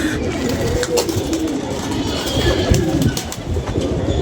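Pigeons cooing close by, soft repeated low coos over a busy outdoor murmur with occasional wing flutters and rustles, no clear speech.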